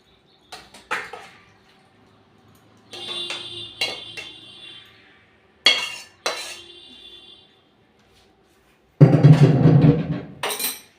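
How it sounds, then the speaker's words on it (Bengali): Cauliflower curry with potato, tomato and peas scooped from a pan onto a metal plate: scattered close clanks and metallic scrapes of a utensil on the pan and plate, ending in a louder, busier run of clattering. "এই দেখো একটা প্লেট টাইপের থালা নিয়ে নিয়েছি, এটার মধ্যে তরকারিটা আমি ফুলকপি কষা ঢেলে নেব।"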